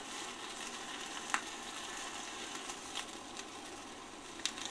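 Steak fat crisps under a flame torch with a soft, continuous frying sizzle and a few faint pops and crackles scattered through it, low in level.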